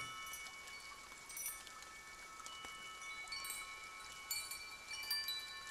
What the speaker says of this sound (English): I've never had salty rain.